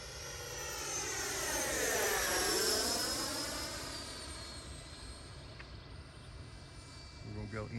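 An RC sport jet with a 12-blade 1950 kV electric fan motor roars past on a flyby, its whine rising as it approaches, peaking, then sweeping downward in pitch as it recedes into the distance.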